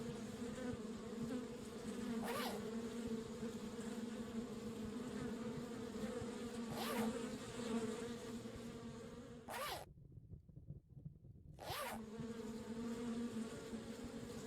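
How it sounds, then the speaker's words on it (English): Bees buzzing in the Kelvin and the Infamous Machine video game, a steady droning swarm with several brief whooshing sweeps passing by and a short dropout partway through. "The bees won't let me get close enough."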